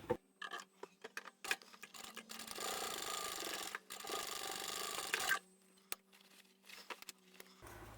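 Sewing machine stitching the boxed corners of a fabric bag, a steady soft whirring run of several seconds framed by quiet clicks and handling noises.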